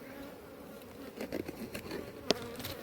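Honeybees hum at an apiary hive in a faint, continuous drone, broken by a few soft taps and one brief knock near the end.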